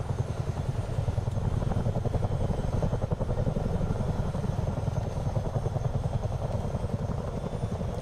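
Chinook twin-rotor helicopter flying over New Zealand in Microsoft Flight Simulator 2024 multiplayer, a loud, continuous rhythmic rotor thump with deep engine drone, steady and close throughout, with no talking.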